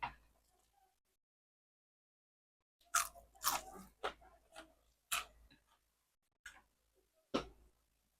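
Crisp crunching bites of food fried in a cornstarch coating come in short bursts after a quiet start, several loud close chews spaced a second or so apart.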